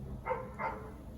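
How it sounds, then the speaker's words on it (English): Dogs barking at a distance, two short barks about a third of a second apart over a low background hum, fairly faint. "And the dogs are barking."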